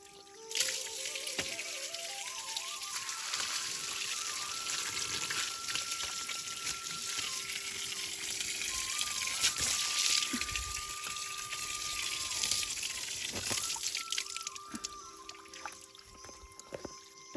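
Water runs steadily from a tap through a pipe at a hillside home, a continuous close gushing and splashing that lasts throughout with no talk.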